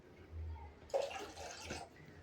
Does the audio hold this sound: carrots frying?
no